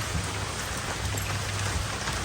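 Steady rain pours down outdoors, a dense, even hiss of drops hitting surfaces that continues without pause, loud and close.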